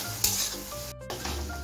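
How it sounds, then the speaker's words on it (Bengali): Mutton sizzles as it is sautéed with ginger and garlic over a medium gas flame, with a few soft stirring scrapes and faint utensil clinks across a steady fry. "আদা রসুন দিয়ে আমি 2 মিনিটের মতো কষিয়ে নিচ্ছি"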